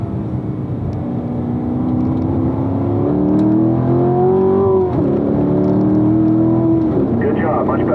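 A car on the Spring Mountain race track accelerates hard during a Level 2 driving run. The engine note climbs steadily in pitch, drops briefly at a shift, then rises again, loud and close from inside the car.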